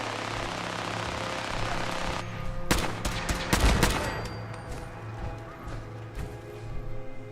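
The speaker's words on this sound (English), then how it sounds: "that bunker is protected by turrets! Oh, and it's focusing fire on me" Turret gunfire pours from a bunker in Fallout 4, a quick cluster of sharp, loud shots around the middle of the stretch over a steady humming game ambience, then scattered fainter cracks trailing off.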